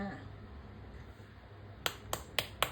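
Knife slicing through crispy Thai pork belly, four sharp crackling crunches in quick succession near the end after a quiet stretch, close and crisp.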